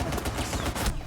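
Rapid gunfire from a Desert Eagle pistol in a competitive first-person shooter match, dense overlapping shots across the whole second, loud and close.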